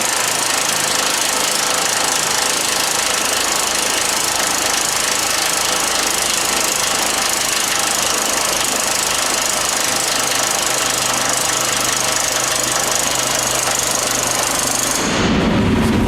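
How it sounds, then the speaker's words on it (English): An impact wrench hammers steadily on a bolt of a 612T screen brush during servicing for about fifteen seconds, loud and rapid, with engine-like rumbling, then cuts off abruptly. "start hammering on that bolt there with the impact"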